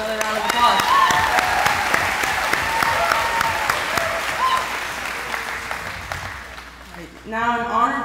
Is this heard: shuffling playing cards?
no